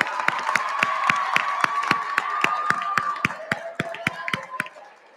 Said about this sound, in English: Let's give them a gigantic round of applause.